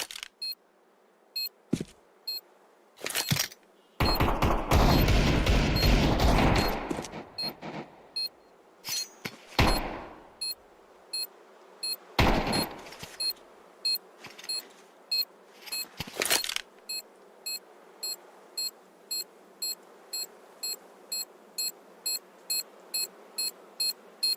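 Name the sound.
planted bomb beeping in a video game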